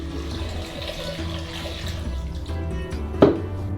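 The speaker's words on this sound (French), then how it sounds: "Versons l'eau chaude dans un bol." Hot water poured into a bowl while cooking at home, a soft continuous splashing pour with a brief clink near the end, alone without talk.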